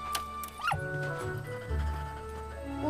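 A cartoon puppy in an animated series gives a short high whimper followed by low whining sounds, close and fairly faint over a quiet background.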